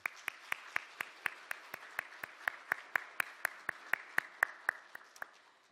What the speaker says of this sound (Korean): 우리 선생님들과 이제 교사들을 위해서 한번 박수 한번 하겠습니다